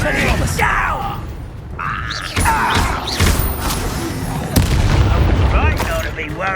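Confringo and Expelliarmus spells fired in Hogwarts Legacy combat on PS5 land as sharp booms, crashes and whooshing blasts in quick succession. Shouting and grunting voices run over the blasts.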